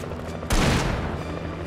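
A gun fires in the video game Alan Wake, a single loud, sharp blast with a booming tail that rings out over quiet in-game background sound.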